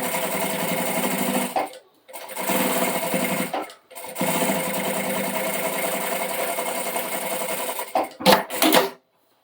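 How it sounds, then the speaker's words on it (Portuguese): A sewing machine topstitches a small floral fabric bag in three long steady humming runs separated by brief pauses, followed by a few short stitching bursts, loud and close. "Agora, eu vou rebater."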